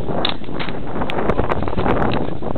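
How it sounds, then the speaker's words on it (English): Steady, loud wind buffets the microphone outdoors, a constant rough rush with no voices. "It's windy out here."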